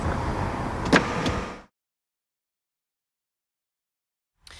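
A 2020 BMW X3 M40i's panoramic moonroof front panel opens, a steady electric motor whir for about a second and a half that stops abruptly, followed by silence.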